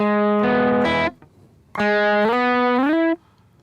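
Sustained electric guitar notes played up and down a single string, bright and clean, in two phrases of stepwise held tones with a short pause between them and no talking.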